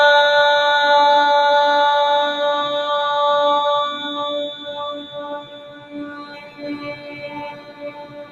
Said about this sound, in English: We'll end as we began with the sounds of ah